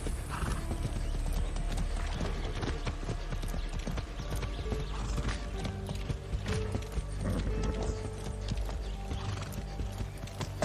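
Horse hooves clip-clop steadily in Far Cry 6, a dense, loud rhythmic patter of hoofbeats with creaking tack and mechanical rattles, and a snort or whinny mixed in near the start.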